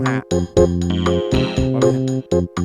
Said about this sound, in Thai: นี้เป็นเสียงจังหวะ75